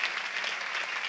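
A congregation at a Sunday church service applauds, a brief burst of dense, even clapping from many hands.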